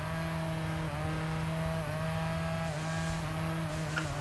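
A damaged rally car engine in the EA WRC24 racing game, on the Monte-Carlo rally, drones steadily and continuously at an even pitch throughout, with no speech over it.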